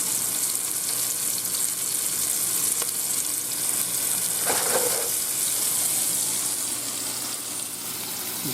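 Floured rabbit pieces fry in a pan with a steady, loud, bright sizzle that crackles continuously throughout, with a brief bubbling flare partway through and no voices.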